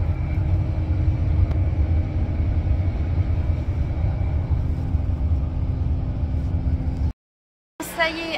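Inside a car on a road trip toward London, a steady low road rumble and engine drone run throughout, cut by a brief silence near the end before the noise resumes.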